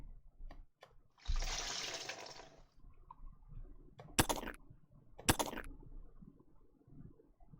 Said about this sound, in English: That sounds like that could be a puking noise.